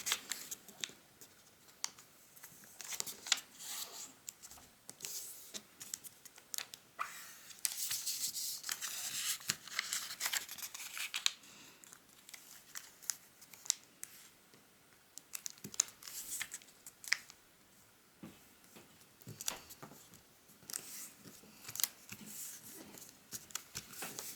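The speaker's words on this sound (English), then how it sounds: "fold the top and bottom towards the center crease you just made" Paper being folded and creased for an origami Santa boot, a steady run of soft crinkles, rustles and sharp presses close by, with no one talking.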